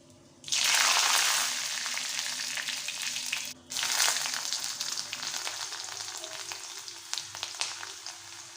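Mustard seeds, cumin, garlic, curry leaves and dried red chillies hit hot oil for a ridge gourd and lentil curry, bursting into a loud, close sizzle that breaks off briefly, then resumes and slowly eases.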